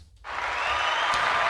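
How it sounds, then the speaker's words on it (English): Applause from a podcast audience bursts in after a brief quiet moment, a dense, sustained wash of many hands clapping at steady loudness, with no one speaking over it. "I was about to clap, but it's already clapping."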